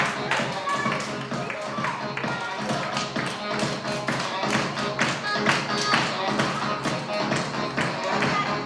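Loud, dense applause from kindergarten children at a party fills the whole stretch, a steady patter of many small hands with a few voices mixed in.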